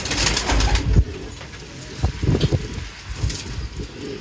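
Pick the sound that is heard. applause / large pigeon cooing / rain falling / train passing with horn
large pigeon cooing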